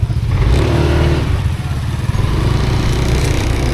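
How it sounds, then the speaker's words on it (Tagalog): A motorcycle engine runs close by, a loud, rough, continuous putter with slight rises in pitch and some clatter throughout, no voices over it. "Si Jumong ang bumaba gamit yung motor ni Idol."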